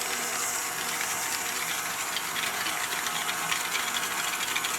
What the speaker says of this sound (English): let's use our whisk blender and start off at a medium speed